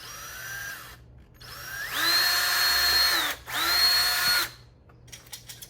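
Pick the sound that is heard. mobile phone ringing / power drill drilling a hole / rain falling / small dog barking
power drill drilling a hole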